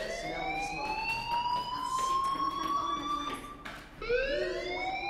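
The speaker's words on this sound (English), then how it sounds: "Hey, do you hear that fire alarm?" A school fire alarm ringing in the video game Life Is Strange, a loud, continuous, rising electronic tone that cuts off briefly and then starts again.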